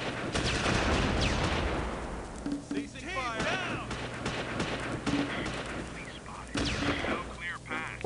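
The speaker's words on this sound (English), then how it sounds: "That's just a 37mm gun, really?" A 37mm gun firing in the Close Combat Normandy beach invasion, with heavy booming shots amid dense battle noise and other gunfire.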